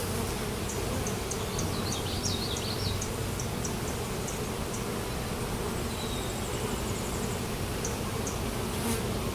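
Honey bees in a hive opened for inspection after two years fill the air with a loud, steady, dense buzzing roar close to the listener, with occasional single bees whining past and no talk.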